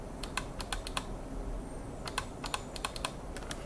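Typing on a Victsing wireless ergonomic keyboard with built-in trackball produces sharp, fairly loud key clicks in quick irregular bursts, heard close up over a faint steady background hiss.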